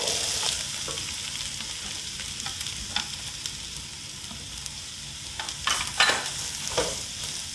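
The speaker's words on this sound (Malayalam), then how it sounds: "ഒന്ന് നന്നായി ഇളക്കിയതിന് ശേഷം നമുക്ക് അരിഞ്ഞു വെച്ചിരിക്കുന്ന സവോള ചേർത്ത് കൊടുക്കാം." Green chilli, ginger, garlic and onion sautéing in a pan for Kerala kappa biryani, a steady bright sizzle with intermittent spatula scrapes and taps, closer and busier toward the end.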